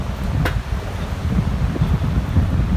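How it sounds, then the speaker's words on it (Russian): Strong gusty wind in the seaside town of Kobuleti, roaring steadily as low rumbling buffets against the microphone, with one brief sharper gust near the start and no voices. "Ветер усиливается."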